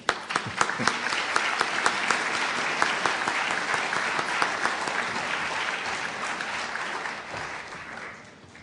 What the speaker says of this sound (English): let me thank all those folks again with an applause